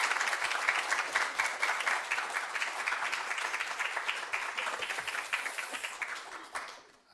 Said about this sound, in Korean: 이 시간 나오실 때 우리 박수로 환영해 주시고